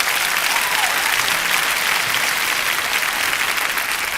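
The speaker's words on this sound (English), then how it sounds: "Give a round of applause." Audience applause at a motivational talk, a steady, dense wash of clapping that holds evenly for several seconds without a break.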